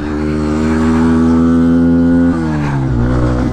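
An old 34-year-old ATV engine drones loudly and steadily up close as it pulls away, its pitch shifting down partway through as it changes gear, with no talk.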